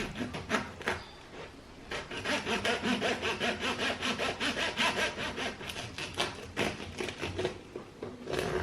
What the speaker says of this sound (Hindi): उसके बाद किसी भी नाइफ़ से आप इसको काटेंगे।